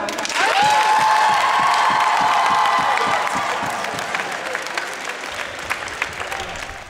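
A large crowd applauds loudly and steadily, with scattered cheers rising through the clapping before it gradually thins and fades.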